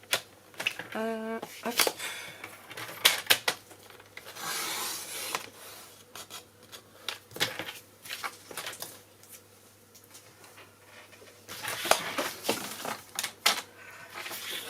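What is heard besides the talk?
cutting paper with scissors for scrapbook album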